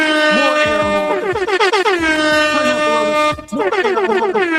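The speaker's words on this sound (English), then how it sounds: "More air horn. Keep going." Loud, repeated air horn blasts in quick succession, harsh and blaring with stuttering rhythmic bursts, filling the clip with no talk.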